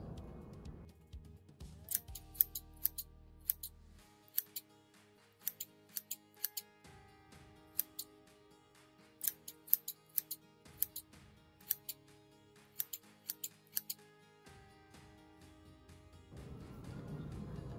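Scissors snip repeatedly through a sequined jean jacket's sleeves, crisp close cuts in an uneven rhythm, each snip sharp and distinct against a quiet room.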